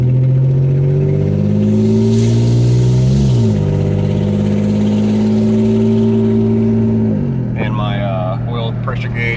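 A Mercedes SL R129 engine with a faulty EGR runs rough, a loud close droning, uneven idle that rises and dips slightly in pitch, with some clicking noises near the end.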